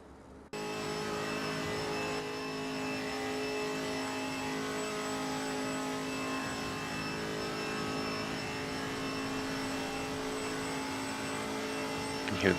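Race cars with straight-cut gears pass on the Nordschleife in a steady, loud engine drone with a high gear whine that holds throughout and swells slightly near the end.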